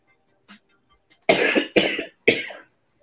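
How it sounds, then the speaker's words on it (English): Three harsh, raspy coughs in quick succession, close and loud, after a brief quiet moment. "I said talking, not coughing."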